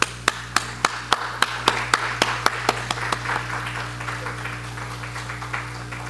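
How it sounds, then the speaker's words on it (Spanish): A small audience at a Christmas concert claps for young performers, starting with sharp, evenly spaced single claps from a few people near the microphone that blend into softer, scattered applause over a steady hum. "hay que dar un aplauso otra vez a esos jóvenes"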